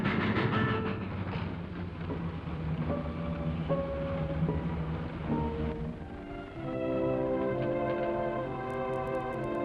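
Old-time train rolling along rails with a steady rumbling, clattering run under a musical score, continuous and fairly close, with the music swelling in the latter half.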